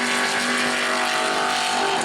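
Super stock race car at full throttle on a qualifying lap at New Smyrna, a loud sustained high-pitched engine wail holding steady under load.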